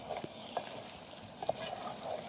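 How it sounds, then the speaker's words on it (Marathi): Ground masala paste for a prawn dish fries and is stirred in hot oil, giving a steady soft sizzle with a few scraping clicks from the spoon. "त्यामध्ये वाटणाला चांगला वास सुटेपर्यंत तळलं"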